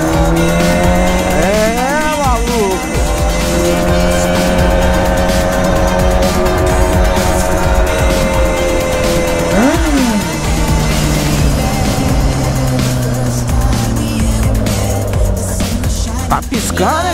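A carbureted Honda Hornet 600 motorcycle is ridden through Poços de Caldas, its loud engine droning steadily and revving up and down in two clear sweeps early and midway through.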